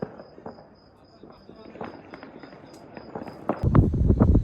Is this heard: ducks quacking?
no